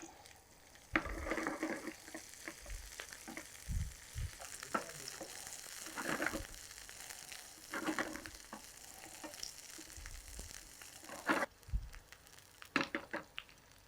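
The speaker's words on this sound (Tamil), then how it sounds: "அப்படியே வறுத்து எடுத்துக்கலாம்." Okra fries in melted ghee, giving a soft, low sizzle broken by scraping and stirring noises from the pan.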